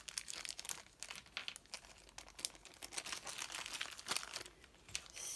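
Small plastic bags of craft beads are crinkled and torn open in a steady run of sharp rustles and crackles close to the microphone, with no talk.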